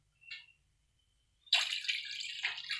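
A cup of water poured into a pot on a lit stove: a brief trickle, a pause, then a steady close pour splashing into the vessel for over a second, fairly quiet, with no talk.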